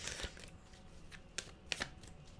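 A tarot card deck is shuffled quietly, giving soft papery riffles with a few sharper flicks and snaps, close and alone.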